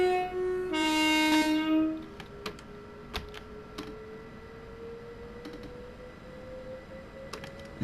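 A train in the Train Sim World 2 game sounds a loud horn blast near the start, then runs on with a low steady rumble and a slowly rising engine tone, punctuated by sharp clicks and clunks.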